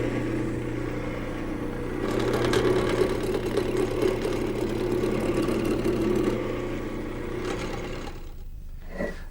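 A wood lathe spins a small blank being turned into chair stretchers for a child's high chair, giving a steady motor hum with rougher cutting texture through the middle before it quiets near the end.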